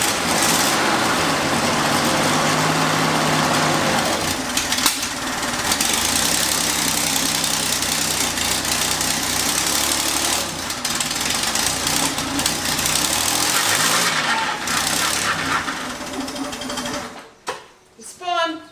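A barn-find Chevrolet Corvair engine runs steadily with a busy mechanical clatter and hum for most of the stretch, then sputters and cuts out near the end, leaving brief bursts of noise.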